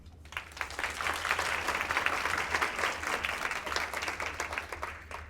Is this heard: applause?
yes